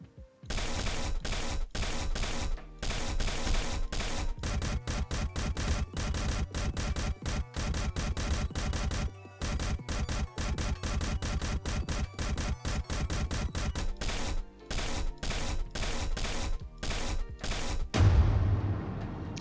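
Rapid gunshots fire at targets in the Aim Lab Gridshot training mode. The sharp, loud cracks come in a steady, dense rhythm with only a few short gaps, and no talking is heard.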